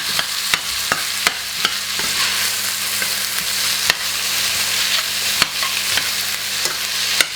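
Onion sizzling steadily in oil in a large pot, with sharp scraping clicks of a utensil stirring it at irregular intervals, close and fairly loud.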